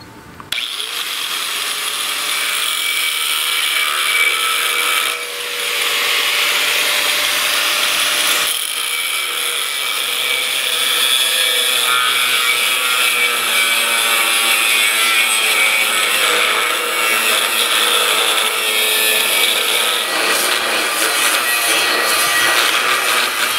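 A power saw grinds loudly through a metal car trailer frame for a long stretch, harsh and high-pitched, with a brief pause early on before cutting resumes.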